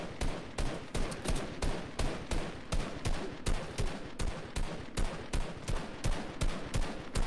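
Gunfire in Fortnite rattles in a rapid, steady automatic stream of sharp shots, continuous and fairly close throughout with no talk.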